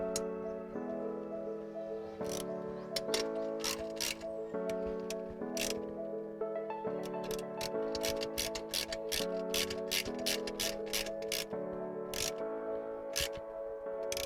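A ratchet wrench tightening a bolt underneath a motorcycle power exhaust pipe, its clicks coming in short irregular bursts over steady tonal music in the background.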